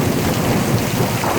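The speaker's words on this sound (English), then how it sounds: "Oh, we're getting hail." A thunderstorm with hail: a dense, steady roar of hail and heavy rain pelting a surface, loud and continuous, with a low rumble beneath.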